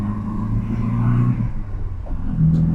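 Classic MGB GT engine heard from inside the moving car: a steady, fairly loud low rumble with a gentle rise and fall in revs, no talking over it.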